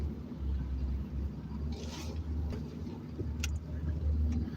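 A car engine rumbles and revs at moderate distance inside a moving vehicle, a low steady drone with slight swells, no speech heard.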